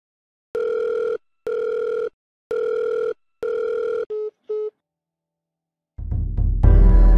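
Phone call cut off: four evenly spaced loud disconnect tone beeps followed by two shorter ones, then a louder burst of mixed noise at the end.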